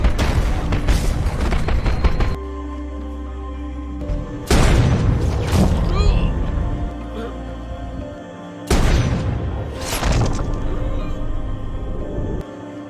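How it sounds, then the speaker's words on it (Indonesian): Mortar explosions and gunfire in a war film ambush scene: loud, booming blasts arrive in three heavy bursts, with crackling rifle fire and rumbling debris in between, dense and close. "Mereka terus diserang dan diserang menggunakan mortir."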